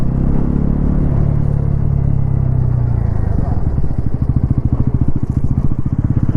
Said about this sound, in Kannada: ಥ್ರಾಟಲ್ನಲ್ಲಿ ಕ್ವಿಕ್ ರೆಸ್ಪಾನ್ಸ್ ಇದೆ, ಯಾಕಂದರೆ ರೈಡ್ ಬೈ ವೈರ್ ಇದೆ.